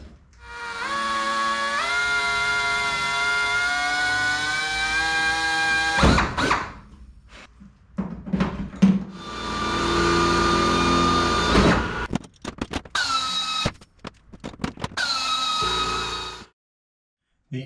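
A power drill whines steadily while punching holes in aluminum forward fuselage parts for a homebuilt Van's airplane, running in several sustained bursts with brief stops and clatter between them, close and loud.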